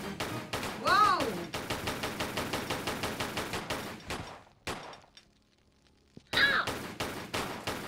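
Rapid pistol fire in Tomb Raider 3 Gold, dense evenly spaced loud shots in long bursts, a short pause of near silence, then another burst, with a pained character cry partway through.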